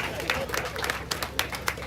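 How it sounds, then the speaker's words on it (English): A crowd claps at an outdoor anniversary celebration in Arua District, Uganda, with irregular bursts of applause rising over a busy murmur of voices and background noise. "Let's clap for Trump."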